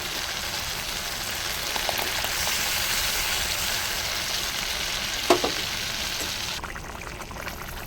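Spice masala for a steamed egg dish sizzles steadily in a pan as it is stirred, with one sharp utensil clink and a few quieter scrapes breaking through the even, fairly quiet frying hiss.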